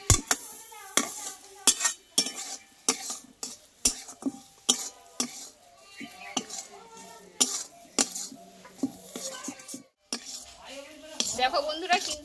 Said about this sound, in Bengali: আর এইভাবে কিন্তু নাড়াচাড়া করতে একটু তলে যাতে না লেগে যায়।